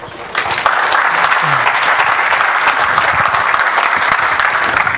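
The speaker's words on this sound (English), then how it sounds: "Let's applaud him." A conference audience in a lecture hall breaks into applause to welcome a speaker to a technical talk. It is loud, dense and steady after a brief quiet start.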